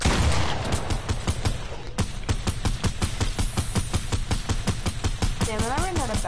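Rapid, continuous gunfire in a PS4 shooter video game, a loud, dense stream of close shots with bursts overlapping, and a voice briefly heard near the end.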